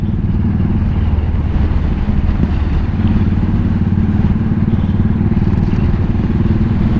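A Royal Enfield Continental GT motorcycle with stage 3 Hitchcocks tuning, its engine running loud and close in a steady, even throb for the whole stretch with no talk.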